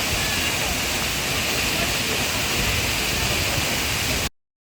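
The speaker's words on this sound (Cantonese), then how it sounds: "夜晚睇呢個瀑布啦" A waterfall at Minoo roars at night, a dense, steady broadband rush of falling water that stays constant and close before cutting off abruptly near the end.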